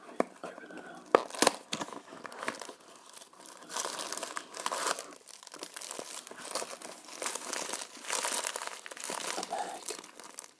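Close, quiet crinkling and tearing of T2 tea packaging as a Melbourne Breakfast package is opened, steady rustles and crackles with a few sharp snaps near the start, no talking.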